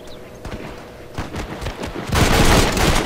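Gunfire during a Red Dead Redemption gang shootout in a pasture, with scattered shots and a denser fusillade building toward the end, fairly loud and continuous.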